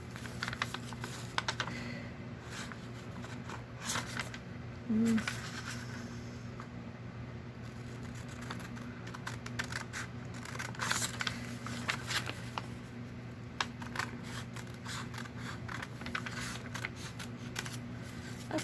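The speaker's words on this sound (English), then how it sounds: "I'll just use my scissors" Quiet, close snipping and rustling of scissors cutting through paper, irregular crisp cuts over a faint background hum, with no talking.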